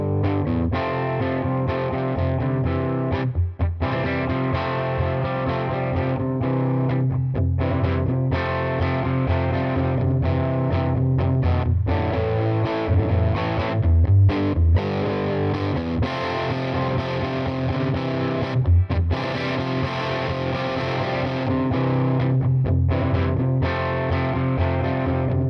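An electric guitar plays through a saturated Rift Amps limited edition 5E3 amp, giving a thick, continuous, heavily distorted tone. Chords and notes ring loudly and closely for the whole stretch, with no talking.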